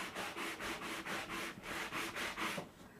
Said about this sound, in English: Just take one of our sanding blocks. I have the old style, but we have a newer style in the catalog. And you just rough up that acrylic.